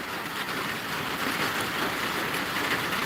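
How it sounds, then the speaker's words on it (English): Heavy pouring rain, a steady dense hiss that stays even and continuous throughout with no voices. "it is pouring rain"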